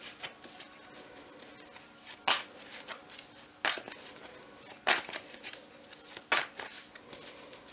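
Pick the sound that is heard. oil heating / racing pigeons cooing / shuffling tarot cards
shuffling tarot cards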